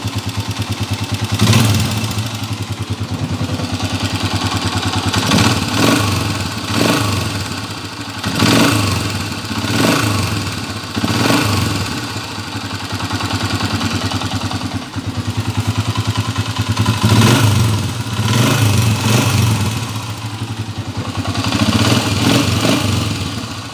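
A Honda TMX125 motorcycle engine converted to 155cc runs loud and close, a steady idle with a ticking clatter and repeated throttle blips rising and falling every few seconds.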